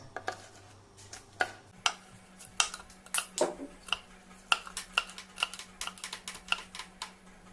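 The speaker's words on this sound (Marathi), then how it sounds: "आता ती बरी हिरवी मिरची एकूच घेतल्या आणि आता तेजे बरे बारीक कुडके करता" A knife finely chops a green chilli on a board, giving a quick run of sharp, close taps in an irregular rhythm that speed up in the second half.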